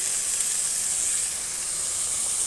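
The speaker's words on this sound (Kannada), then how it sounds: "ಈ ರೀತಿಯಾಗಿ ಮಾಡಿಕೊಂಡು ಒಗ್ಗರಣೆ ಹಾಕೋತಾ ಇದ್ದೀನಿ" A continuous, even sizzling hiss from tempering in a hot pan for drumstick leaf palya, steady and close with no talking.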